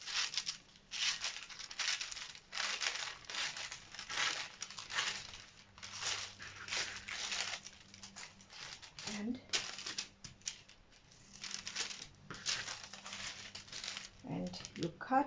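Paper dress pattern being cut along a marked line, giving a run of crisp rustling and crinkling bursts in an uneven rhythm, close and fairly quiet, with paper handling throughout.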